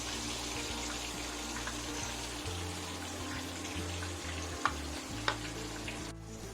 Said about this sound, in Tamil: இதே மாதிரி மிச்ச சிக்கனையும் நம்ம பொரிச்சு எடுத்துக்கலாம்